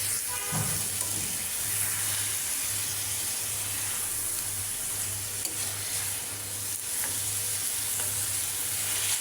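Cut eggplant frying in masala in a pan, stirred, a steady close sizzle for several seconds with a low intermittent hum underneath and occasional soft stirring taps.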